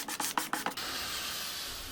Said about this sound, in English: Sanding this first drawer front completely was a test of sorts.